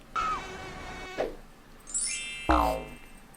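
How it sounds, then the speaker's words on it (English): A mosquito's high, thin whine buzzes in a few rising and falling passes, close and fairly loud, broken by short gaps. "Mosquito bites and their itch are one of nature's most annoying features."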